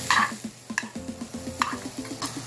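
Red onions frying for tuna sisig, a soft sizzle under rhythmic scraping and tapping as a utensil stirs them around the pan, with a few sharper clinks of metal.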